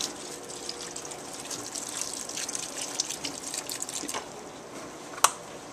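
Vegetable broth pours into a pot of vegan chili, making a soft liquid gush and splashing with a few drips, quiet and close, ending in a brief sharp clink.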